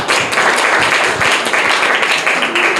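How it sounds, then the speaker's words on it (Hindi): Loud, dense applause from a crowd of students for prize winners at a government school competition, sustained clapping throughout with no pauses. "जोरदार तालियां इनके लिए।"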